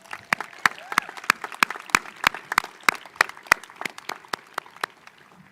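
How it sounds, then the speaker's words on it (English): Scattered applause from a graduation ceremony audience for the school band, a mix of individual sharp claps in an uneven rhythm that thins out toward the end. "Give them one round of applause."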